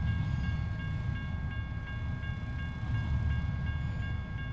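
A long train rolls steadily past in a railway video game, its wheels rumbling low and continuous while a faint squealing tone rides above the wagon clatter.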